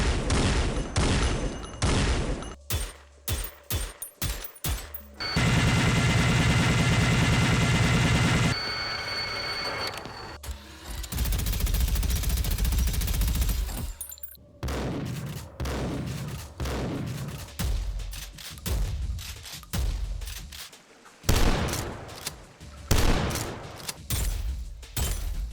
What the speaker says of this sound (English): I'll just go ahead and run a short compilation of great sounding guns next to Prodeus's.